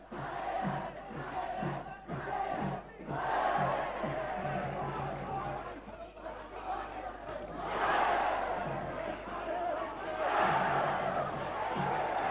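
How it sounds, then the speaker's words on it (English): A boxing match crowd at a World Cup final in Bangkok roars and cheers in loud swelling waves, with surges and chatter throughout and a commentator's voice talking over it. "Crowd getting very up about this one"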